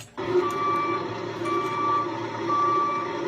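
A truck's reversing alarm beeps in a steady, evenly spaced series of high electronic tones over a low engine rumble, close and clear, with no talking.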